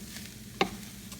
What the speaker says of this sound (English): So the egg has finished cooking and I'm just chopping it up with my spatula here, and then I'm going to mix it all together